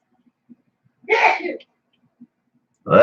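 A single close sneeze bursts out in a quiet indoor workshop where an Axial Ryft RC crawler is being rebuilt, with faint clicks before it and a voice starting right after.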